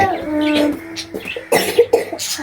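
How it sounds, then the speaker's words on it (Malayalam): A voice gives a few short, sharp coughs in a quick cluster, close and fairly loud, after a brief spoken or sung tone. "നല്ല ചുമയാണ്"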